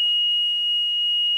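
A loud electronic buzzer holds one steady, piercing high-pitched tone without a break.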